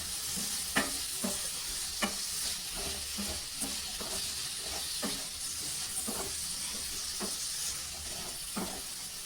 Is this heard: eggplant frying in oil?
yes